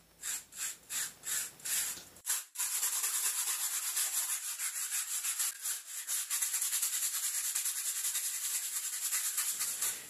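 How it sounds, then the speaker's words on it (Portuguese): Edges sanded by hand with coarse 80-grit sandpaper: about six separate rhythmic rasping strokes, then a continuous close, loud scratching scrub that carries on to the end. "Vou lixar as bordas para tirar algumas imperfeições."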